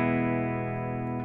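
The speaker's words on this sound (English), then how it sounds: "here's what I do with the pitch shifters" Electric guitar through a pair of pitch shifters on a Line 6 Helix, a clean sustained chord layered with shifted harmonies that rings steadily and evenly, then fades with a slight shimmer.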